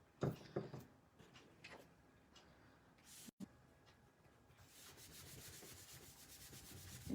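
Soft dry rubbing of a finger over a finished paper card to test freshly dried ink for smearing, quiet scuffing strokes that turn steadier and more continuous toward the end, with no talking.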